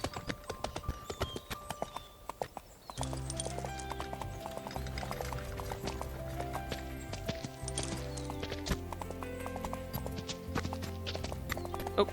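Horse hooves gallop in a video game, with rapid, continuous clip-clop beats from several horses and a wagon, loud and steady throughout.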